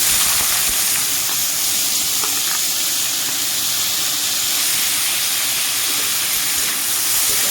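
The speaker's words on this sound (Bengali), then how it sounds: "তেলটা গরম হয়ে গেছে দিয়ে দেবো পেঁয়াজ কুচিয়ে রাখা" Chopped onions sizzle loudly in hot mustard oil, a steady close hiss of frying that runs unbroken for the whole stretch, with no voices over it.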